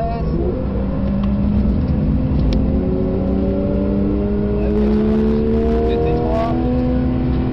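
Porsche 992 GT3 RS flat-six engine revving hard under load, steady climbing drone with rising pitch sweeps as it pulls through gears, loud and close, with a voice talking over it.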